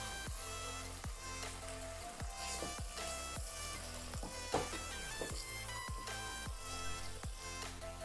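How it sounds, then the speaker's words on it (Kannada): Tomatoes frying with onions in a pan for Bengaluru-style chicken donne biryani, heard as a faint, steady sizzle with soft crackles under a regular rhythmic background pulse, no talking. "ಟೊಮ್ಯಾಟೊ ಹಾಕಿ ಸ್ವಲ್ಪ ಫ್ರೈ ಮಾಡ್ಕೊಳ್ಳೋಣ ಇದನ್ನು."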